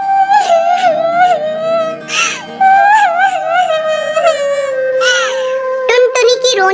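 A high, wavering voice performs a cartoon bird sobbing, with sustained wails and whimpers rising and falling in loud, continuous bursts.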